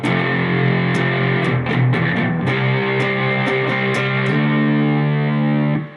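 Distorted electric guitar plays the part 2 riff, chugging power chords with a slide up to a D5, loud and continuous with crisp pick attacks, no voice.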